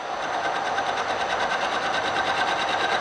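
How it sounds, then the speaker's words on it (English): A handle cranked on a roller under repair makes a steady, close mechanical whirring with a fine rhythmic ticking, continuous and fairly quiet. "I'm cranking on the wrong handle, of course."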